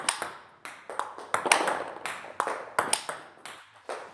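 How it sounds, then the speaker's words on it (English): Sharp plastic ball pings bounce back and forth in a steady rally rhythm, clicking off paddles and table close by. "You hear the bounce, and you start your motion."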